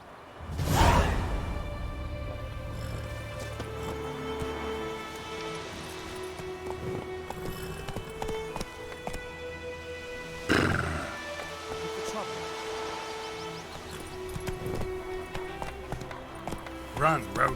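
Roach, the horse in The Witcher 3, galloping with steady hoofbeats under orchestral game music, with a couple of sharp impacts and brief spoken lines over it.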